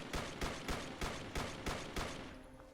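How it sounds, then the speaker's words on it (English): A suppressed SilencerCo Maxim 9 pistol in Fallout 4 fires a rapid series of about seven muffled shots at an even rhythm, each a sharp thump with a short decaying tail, fairly quiet overall. "When I fire this thing, it sounds like this."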